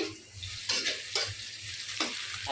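Bitter gourd (karela) fries in a pan with onion, a steady close sizzle broken by a few sharp bursts of stirring and spatula scrapes.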